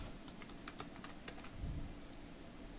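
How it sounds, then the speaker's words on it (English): Soft keystrokes on a computer keyboard as an email and password are typed, a quick irregular run of light clicks over a low steady room hum. "just type your email and password it here"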